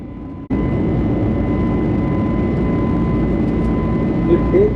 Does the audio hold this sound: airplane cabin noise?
yes